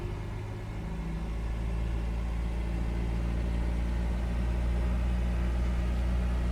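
Piper PA28 piston engine in FSX flight simulator holding steady at low run-up RPM, a continuous loud droning hum with no breaks.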